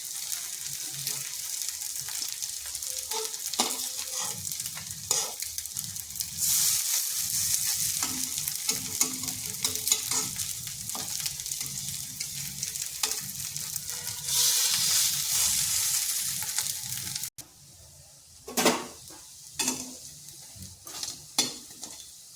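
Flattened rice frying in a pan over slow to medium heat gives a steady close sizzle, broken by repeated stirring scrapes and clinks, with a brief quieter stretch near the end before the stirring resumes; no voices.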